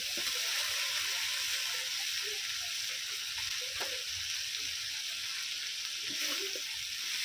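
Tomato paste hits hot oil and frying spice masala in a pan, giving a steady, broad sizzle with soft stirring scrapes and small pops, moderately close and continuous with no talk.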